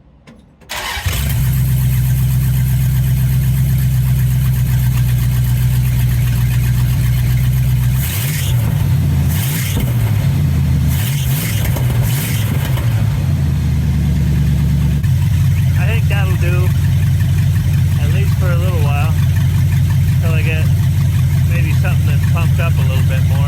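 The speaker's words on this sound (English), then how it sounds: "Let's see if it'll pick up some fuel." A 1977 Dodge D100 pickup's small-block V8, swapped in for a slant six, cranks and catches, then idles loudly with a steady low rumble and a few throttle blips; voices talk over the running engine.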